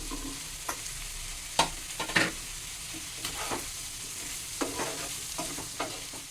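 Tomato and ridge gourd frying in a pan for a river kachki fish chorchori, with a steady soft sizzle broken by a few sharper scrapes and clinks of stirring.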